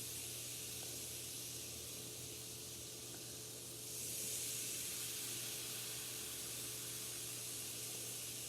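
Vinegar poured into a homemade model volcano fizzes with a steady soft hiss that swells louder midway and keeps going, with no talking over it.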